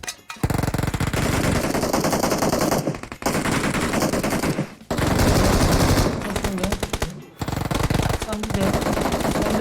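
Rapid automatic gunfire from the mobile battle royale game PUBG Mobile rattles in loud, close bursts separated by short pauses, with a player talking over the shooting.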